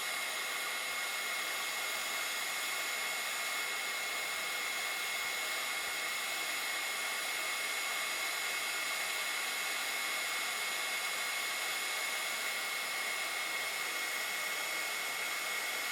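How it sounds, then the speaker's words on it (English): Heat gun blowing a steady, even hiss of hot air over shrink plastic, a constant fairly quiet rush lasting throughout with no breaks and no voices. "So I'm just gonna hold the heat gun."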